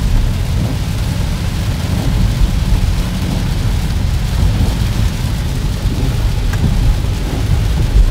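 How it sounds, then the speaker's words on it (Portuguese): Heavy rain in São Luís, Brazil, pours down steadily in a dense, loud roar, with a deep rumble underneath throughout. "Muita chuva, muita chuva."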